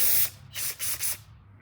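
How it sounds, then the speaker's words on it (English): Aerosol carburetor cleaner sprayed in short bursts through the emulsion tube of a Troy-Bilt Storm snow blower carburetor: a long hiss followed by three shorter hissing spurts, close and loud, with no talking. "Got our emulsion tube here, and I just spray in, and then I hold my finger on the side"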